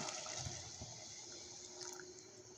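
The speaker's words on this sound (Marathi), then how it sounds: "हे बघा मी आता ह्यात गरम पाणी टाकून घेत आहे" Hot water pours into a pot of misal curry made with moth beans, a continuous soft gushing and trickling stream heard close but faint, steady throughout with no talking.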